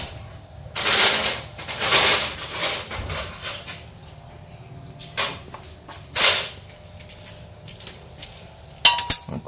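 A 10 mm combination wrench works a car wheel stud during replacement of a broken stud, giving several close, sharp metallic clanks and ratcheting scrapes in irregular bursts over a quiet background.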